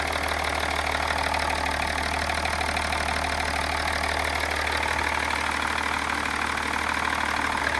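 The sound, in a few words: BMW diesel engine idling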